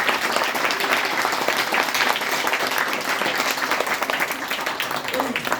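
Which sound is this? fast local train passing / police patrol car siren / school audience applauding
school audience applauding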